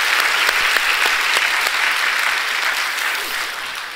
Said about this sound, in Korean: 우리 다시 한번 환영의 박수 뜨겁게 한번 쳐드리시기 바랍니다